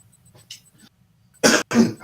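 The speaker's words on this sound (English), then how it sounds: "this shit just made me cough" A couple of faint breathy sounds give way to a short, sharp cough burst, then another harsher cough right after.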